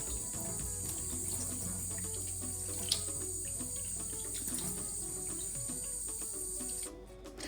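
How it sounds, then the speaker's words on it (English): Cold tap water runs steadily into a sink while pondu (cassava leaves) is rinsed by hand, a constant close splashing stream with faint handling noises and no talk. "So I'm going to run this under a cold tap and clean this."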